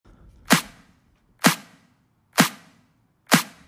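Two snare drum samples layered into one punchy, clap-like hit, repeated four times at a steady pace, each a loud crack with a quick decay and silence between.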